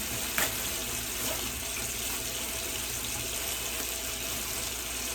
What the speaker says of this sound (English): I'm gonna rinse off some cilantro.